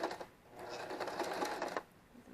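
A sewing machine runs a straight stitch for about two seconds, joining quilt pieces in one short, fairly quiet, continuous burst with no talking.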